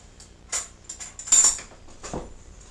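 A butter knife clinks lightly against a kitchen surface and dishes while making maple honey oat bread, a few small metallic taps close by with no talking.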